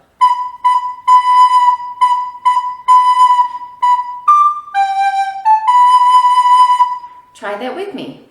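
A recorder plays the Jingle Bells melody in clear, pure tones, with repeated short notes in a steady rhythm and then a few held notes. It is close and alone, and a brief burst of other sound comes at the very end.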